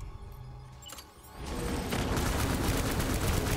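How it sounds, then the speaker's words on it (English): Assault rifle gunfire in the video game Death Stranding, a dense, continuous burst of shots that fills most of the clip after a brief lull. "That's that assault rifle"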